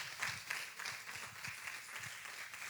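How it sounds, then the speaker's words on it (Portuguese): A church congregation applauds during a service, with faint, steady scattered clapping at low level. "Vamos aplaudir o Senhor Jesus bem forte."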